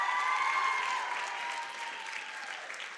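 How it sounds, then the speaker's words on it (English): Warm audience applause at an international conference plenary welcoming five Israeli teens, a broad sustained wash of clapping heard from some distance with a faint tonal ring over it, slowly easing off. "give a round, warm of applause"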